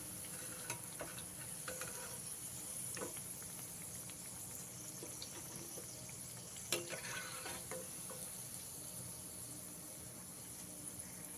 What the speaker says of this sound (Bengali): এইভাবে বাকি টোস্টগুলোও আমি ভেজে নেব